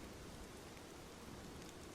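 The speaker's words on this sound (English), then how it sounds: "for a long time, the microphone records nothing except rain" Rain falls on wet leaves in a forest, a dense, even hiss of drops with no other sounds, quiet and steady throughout.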